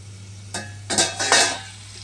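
Small pointed gourd (potol) pieces being stirred and fried in a pan, with a low steady hum beneath and a few scraping, sizzling bursts of utensil against pan, close and moderately loud, no talking.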